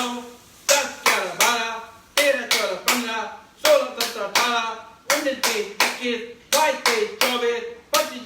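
Loud hand clapping during a yoga exercise for diabetes and stomach ailments, a steady series of sharp claps in bursts under a voice counting along.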